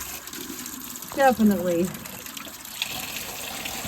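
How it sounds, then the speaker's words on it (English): Water pours steadily into a large batch of solution being diluted half and half, about three gallons, a continuous rushing gush running under a brief spoken word. "We put the water in before we add more of those, just in case."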